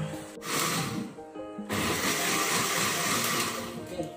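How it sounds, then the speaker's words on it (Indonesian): Countertop blender whirring through passion fruit pulp for homemade syrup, a loud steady motor roar that briefly dips and restarts before running continuously. "Oke, ini akan kita blender."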